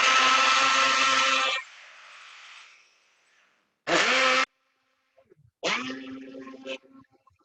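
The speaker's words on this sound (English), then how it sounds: "I'm going to put this in the blender. This is just a personal blender." A small personal blender whirs loud and high while blending a watermelon cocktail, then winds down. Two shorter bursts of blending follow after a pause.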